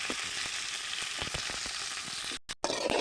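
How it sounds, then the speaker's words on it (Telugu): Green leaves frying in hot oil while being turned back and forth, a steady close sizzle with small crackles and a brief break near the end before it resumes. "ఈ ఆకులు ఎర్రగా అయిందాక నూనెలో అటు ఇటు వేయించాలి"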